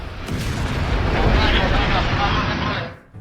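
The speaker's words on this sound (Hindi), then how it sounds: "सीजफायर के बाद ईरान के लवाना द्वीप पर हमलों से जोरदार धमाका हुआ" An attack on an oil refinery on Iran's Lavan island sets off a powerful explosion, heard as a loud, rumbling blast roar that swells and sustains for about three seconds before cutting off abruptly.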